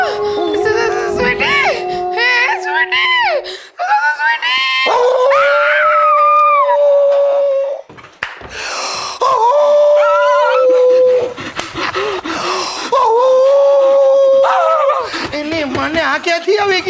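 In a Gujarati stage comedy scene, a dog that has just bitten a man howls in long, rising, wavering cries, again and again, loud and close, with voices and laughter around it.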